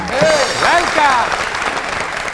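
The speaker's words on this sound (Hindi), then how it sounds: "आपकी बहुत सी तालियों में a very talented, the one and only Agha Siraj." A studio audience claps in a short burst of applause, over which an excited host's voice rises as a guest is introduced.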